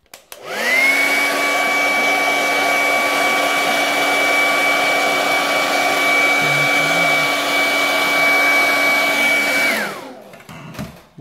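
A hot-air blower heats the screen of a Samsung GT-S5830 phone to soften its glue. It gives a steady, loud whine that runs unbroken for about nine seconds, starts and stops cleanly, and is heard alone with no voices.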